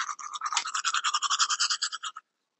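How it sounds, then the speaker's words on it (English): A toothbrush scrubs teeth in rapid rhythmic back-and-forth strokes, close and fairly loud, running steadily for about two seconds before stopping abruptly. "Brushing your teeth."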